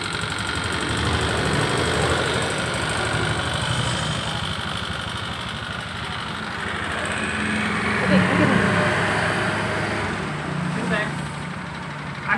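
A Honda Beat fuel-injected motorcycle with a fault runs its engine with a continuous rough, rattly idle near the microphone, while people speak over it.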